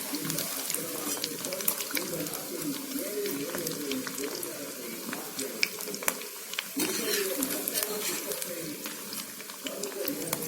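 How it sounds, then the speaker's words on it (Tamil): Cauliflower pakoda pieces dipped in batter sizzle and crackle steadily in hot oil, a continuous moderate frying hiss with small pops throughout, while a person talks over it. "இது எல்லாத்தையும் நம்ம எண்ணெயில முக்கி போட்டுட்டோம்"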